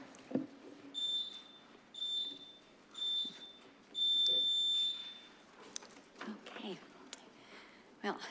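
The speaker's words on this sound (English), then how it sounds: "the timer will beep a whole bunch of times" Four evenly spaced bursts of high electronic beeping from a microphone timer at a council meeting, one per second, the last held longer, followed by faint room noise and distant voices.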